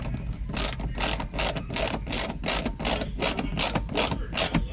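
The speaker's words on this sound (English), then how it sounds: "When you tighten it up with the ratchet," A ratchet tightens a lock nut during a truck drop visor install, giving about ten loud, evenly spaced clicking bursts in a quick rhythm, close up and without talk.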